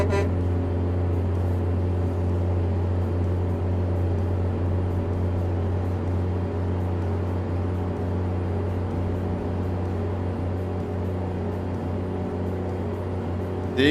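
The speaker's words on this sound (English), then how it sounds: "You can kind of hear the loop point in this engine sound now at this particular RPM." Truck engine in the American Truck Simulator video game, a steady low drone held at constant RPM throughout, loud and unchanging with a repeating looped quality and no talk.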